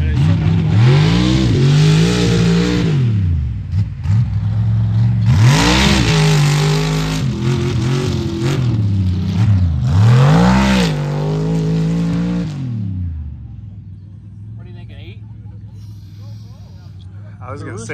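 A 1972 Ford F100 truck's engine revs hard in repeated surging bursts as it jumps through mud, loud and close, with voices talking over it before the roar drops to a low idle.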